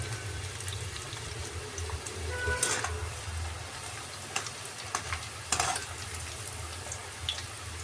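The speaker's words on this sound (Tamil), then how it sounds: "நல்லா வந்து கோல்டன் கலரில் பாவக்காய் வந்ததுக்கப்புறம் நம்ம வந்து ஃப்ரை ரெடி ஆகிடுச்சுன்னு அர்த்தம்" Bitter gourd pieces deep frying in rice bran oil: a steady low bubbling sizzle under occasional stirring scrapes and clinks, close and fairly quiet, with no voices.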